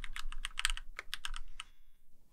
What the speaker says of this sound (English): Click in the search box and start typing the name of your node.